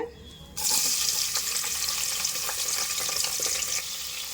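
Sliced onions land in hot oil already seasoned with cloves, cinnamon and cardamom, setting off a sudden, steady, loud sizzle that hisses on with faint stirring clicks and no talk.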